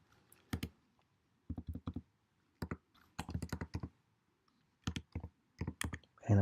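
A username typed on a computer keyboard: close, crisp key clicks in short irregular bursts separated by pauses, with a louder clunk at the end, in a quiet room with no talking.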